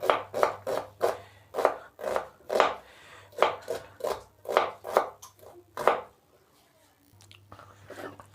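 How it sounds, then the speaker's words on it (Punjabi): Knife chopping turnips finely on a board, a close, steady series of sharp thuds at an even rhythm with a low hum beneath, pausing briefly before a few softer cuts at the end. "ਆਪਾਂ ਥੋੜੀ ਜਿਹਾ ਐਦਾਂ ਬਰੀਕ ਚੌਪ ਜੇ ਕਰ ਲਵਾਂਗੇ"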